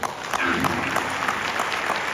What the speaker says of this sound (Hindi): आप अपने लिए एक अच्छी ताली बजा दीजिए